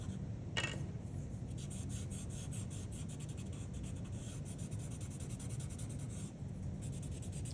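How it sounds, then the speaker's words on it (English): A pencil shades hair on paper in steady, continuous strokes, a soft close scratching and rubbing that runs the whole time and is heard alone. "I'm shading in the direction that the hair is growing, even though I'm smoothing it out for now"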